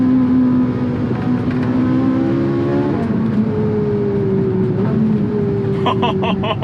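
A Ferrari 458 Italia's engine revs in a steady, smooth drone with a strong induction note that climbs and settles, heard from inside the car. A higher whine rises near the end.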